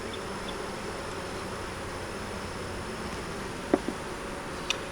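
Honeybees drone in a steady, dense buzz around an open hive during an inspection, close and continuous, with a few faint clicks near the end.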